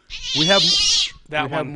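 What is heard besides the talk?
cat meow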